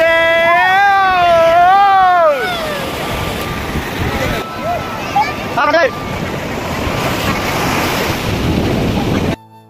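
Surf breaking on the sea beach at Puri, a broad steady wash of waves with wind buffeting the microphone, while voices sing and talk loudly over the first seconds and people chatter throughout.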